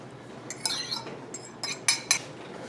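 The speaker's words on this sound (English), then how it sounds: "So now we're going to beat these eggs up good." Quick clinking and tapping of a utensil against a bowl while eggs are beaten for homemade noodle dough, a few sharp irregular strikes close up over quiet room noise.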